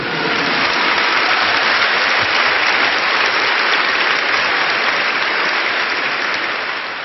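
Church congregation breaks into sustained applause, a dense, steady wash of many hands clapping at once, loud and even from start to finish with no voices on top.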